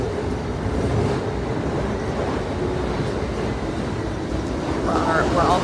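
Steady low rumble and rattle inside a moving high-speed train car heading toward Richmond, a continuous loud wash of track and carriage noise throughout, with a brief higher whine near the end.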